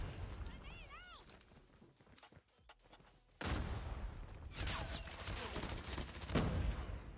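Gunfire bursts in a competitive shooter match crackle in rapid volleys, growing louder and denser midway, heard under continuous commentary.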